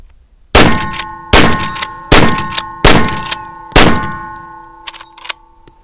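Five loud, sharp shots ring out from a Henry .45-70 lever-action rifle about 0.8 seconds apart, each with a ringing metallic tail, followed by a few faint clicks from the lever.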